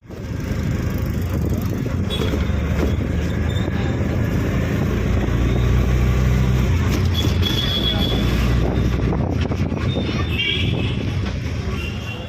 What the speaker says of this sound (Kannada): ಇವಾಗ ಆಟೋದಲ್ಲಿ ಕುತ್ಕೊಂಡಿದ್ದೀವಿ